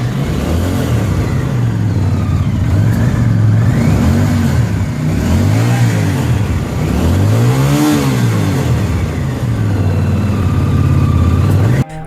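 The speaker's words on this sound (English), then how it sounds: "Let's see what 80s turbo V-twin sounds like." A 1980s Honda CX500 Turbo motorcycle, a turbocharged V-twin, revs up and down several times in smooth swelling waves over a steady idle, loud and close, with no talk.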